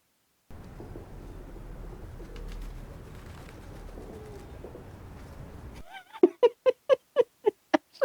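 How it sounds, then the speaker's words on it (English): Carrier pigeons coo in a scene from the film John Wick: Chapter 2. A series of soft, rhythmic coos arrives close up after several seconds of muffled ambient noise and ends the clip. "Actually got carrier pigeons."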